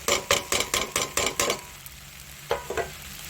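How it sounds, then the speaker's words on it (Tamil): Spices and chilli and coriander powders sizzle and fry in hot oil in a pan for Tamil kara kulambu, with a quick run of rhythmic stirring scrapes followed by a quieter hiss and two more scrapes. "இப்போ எண்ணெயில் வந்து இது நல்லா அப்படியே ஃப்ரை ஆகிட்டோம்."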